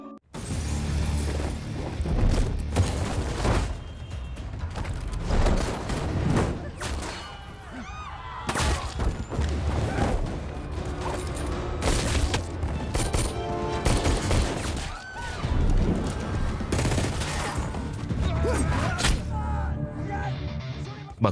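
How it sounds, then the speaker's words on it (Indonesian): Gunfight from the action film Blood Brothers, with bodyguards and mysterious attackers trading fire: dense, loud bursts of shots and booming impacts crowd nearly the whole stretch, layered over a driving score with no pause in the chaos. "baku tembak pun gak bisa dihindarin cuy."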